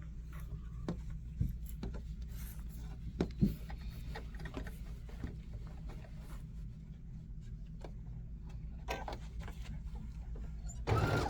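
A sewing machine runs a quarter-inch seam along a wine bag strap, a low steady mechanical hum broken by soft ticks and clicks, fairly quiet and with nobody speaking.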